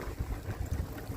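Small boat on the sea, a low, pulsing engine chug with rhythmic water slaps, fairly faint and close.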